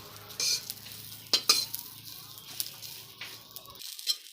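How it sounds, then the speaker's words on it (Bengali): Sesame seeds fry and get stirred in a pan, making a soft hiss with occasional sharp scrapes and light crackles, fairly quiet and close. "তিলটা এখন ভাজা হয়ে গেছে"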